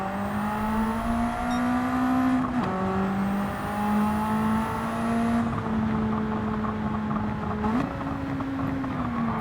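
Racing car engine in a racing video game, holding a steady high whine with gear shifts and popping, spitting exhaust, loud and continuous throughout.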